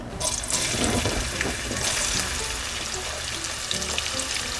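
Sliced onions hit hot oil with cumin seeds in a pan for a Nepali parwal and potato curry, giving a loud, close, continuous sizzle and crackle with a few sharper pops, no voices.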